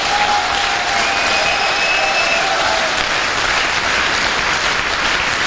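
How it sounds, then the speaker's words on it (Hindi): A Safe Shop motivational seminar audience claps loudly and steadily, the dense crowd applause holding at an even level from start to finish without any talk. "ऐसे दमदार अपलाइनों के लिए दमदार ताली होनी चाहिए"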